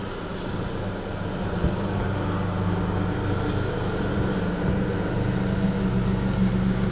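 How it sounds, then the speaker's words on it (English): A vehicle lift raises a Chevy Cruze in a repair shop, giving a steady, loud mechanical hum and low drone that holds evenly throughout with no talking. "I'm going to lift the vehicle real quick"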